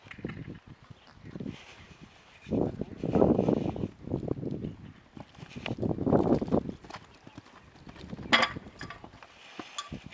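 Horse cantering in a riding lesson, hooves thudding and clip-clopping in repeated bursts at moderate distance, with faint background noise between strides.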